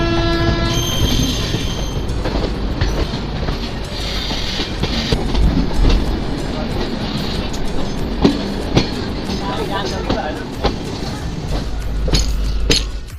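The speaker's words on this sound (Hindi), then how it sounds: "फाइनली अपनी ट्रेन निकल चुकी है अपनी फर्स्ट स्टॉपेज यानी उत्तर प्रदेश की शहीदों के नगरी शाहजहांपुर रेलवे स्टेशन से" The Jammu Tawi–Kolkata summer special train departs Shahjahanpur station, heard from a sleeper coach: a loud rolling rumble with a horn blast near the start, clacking wheels and occasional squeals throughout.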